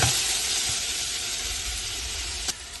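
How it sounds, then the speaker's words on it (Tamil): Onion, green chili, fennel seeds and mustard seeds sauté in a hot pan with a loud, steady, close sizzle and hiss, broken near the end by a single sharp clink. "இதோட பச்சை மிளகாய், பெருஞ்சீரகம், கடுகு எல்லாம் போட்டு நல்லா வதக்கணும்."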